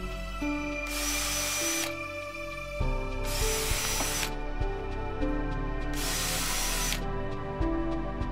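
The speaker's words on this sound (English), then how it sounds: "I always like to do pilot holes when I'm driving screws near the end of a board." A power drill bores pilot holes near the end of a wooden board, three loud whirring bursts of roughly a second each with a steady background hum between them, close and with no voices.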